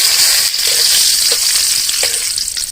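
Bay leaves and dried chilies sizzle and fry in hot oil in a village Bengali kitchen, a loud, steady close crackle running throughout with a few faint stirring knocks.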